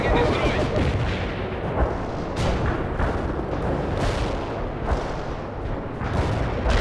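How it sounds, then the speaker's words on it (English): Carpet bombing in the PC war game World in Conflict: a dense, continuous roar of rumbling blasts and booming impacts rolls on steadily, with repeated swells of explosions over a heavy low-end wash. "Carpet bombing requested."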